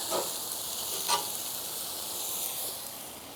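A regular yellow onion sizzles and fries on an old Coleman camp stove at a tailgate lunch, giving a steady, close hiss with a brief stir partway through and no voices.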